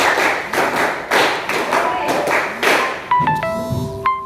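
A group claps in a classroom coaching session, a steady run of about seven sharp rhythmic bursts of many hands, followed by a brief ringing electronic tone and a short chime-like sound.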